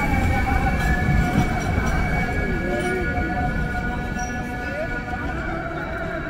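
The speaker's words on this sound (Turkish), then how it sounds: "Size göstermeden önce yine bir tramvay gidiyor Bağcılar yönüne." A tram rumbles past in Istanbul's Old City with a steady low roar and faint metallic squeals, a voice speaking softly over the noise.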